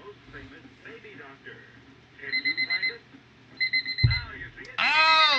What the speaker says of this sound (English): the timer has gone off